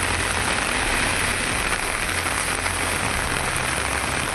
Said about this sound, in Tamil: நெல்லை மாநகரில் வண்ணாரப்பேட்டை, டவுன், பாளை உள்ளிட்ட இடங்களில் மழை பெய்தது.